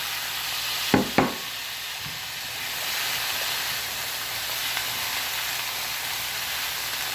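Drained, rinsed canned chickpeas tipped into a simmering tandoori chicken curry, with two sharp thuds as they drop in, then a steady sizzle and hiss from the pan.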